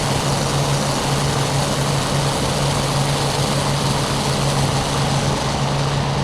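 Aircraft engine in Flight Simulator drones steadily and loudly throughout, a continuous propeller-like hum with constant broadband roar and no talking.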